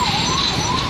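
A fire brigade vehicle's siren wails at a paper mill fire, a loud, close, steady rising and falling tone with no voices over it.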